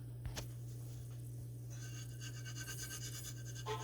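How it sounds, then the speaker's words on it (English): A metal spatula scrapes and pries homemade naan bread up from a hot pan, a faint, rough scratching over a steady background hum. "we're going to pry that up with a spatula"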